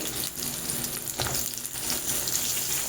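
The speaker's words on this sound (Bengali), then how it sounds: "এবার আমি তেলের মধ্যে একে একে সব সবজিগুলো দিয়ে দেব প্রথমেই দেব আলু তারপর দেব পেঁপে" Potato and papaya pieces fry in oil tempered with cumin seeds, producing a continuous, close sizzle with brief stirring bursts and no talking.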